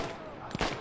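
Gunfire in the World War I shooter Battlefield 1, a couple of sharp shots over dense game noise and background battle din.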